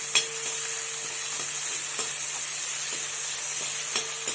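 Crushed ginger and garlic fry in hot oil in a pan for a chicken chaps dish, with a steady close sizzle and occasional light taps of stirring, and no talking.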